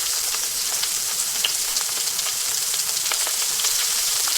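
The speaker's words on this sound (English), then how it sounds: "you could hear the bacon sizzling and stuff and the oil sort of crackling" Bacon sizzles in hot oil in an AI-generated track, a continuous bright hiss dotted with sharp little crackles and pops at an even, close level.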